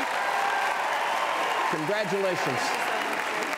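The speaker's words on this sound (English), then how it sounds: "Please give them one more round of applause." Sustained applause from an audience at a regional competition event, dense and steady throughout, with a voice speaking over it partway.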